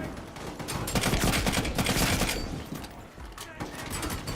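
Gunfire in a first-person shooting video game, rapid, dense bursts of shots forming a continuous fusillade, loud and close, with someone talking over it.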